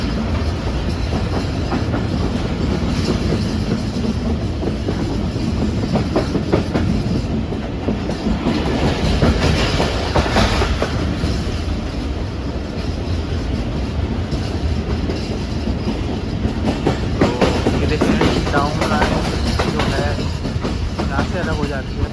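The Pak Business Express passenger train rumbles across a river bridge near Hyderabad, a steady loud clatter of wheels and carriages heard from on board, continuous throughout.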